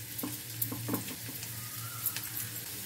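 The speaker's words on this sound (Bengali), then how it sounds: "এবারে ফ্লেমটা আমি হাই করে দিলাম, এখন শুধু নেড়ে যেতে হবে আমাকে।" Ash gourd skin ghonto fries in a pan on high flame while a spoon stirs it, giving a steady close sizzle broken by a few light scraping knocks.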